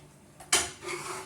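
A spoon scrapes and clatters against a pan while chutney is stirred over raised heat in a Kerala home kitchen, with one sharp metallic knock followed by softer scraping, close by and with no talk.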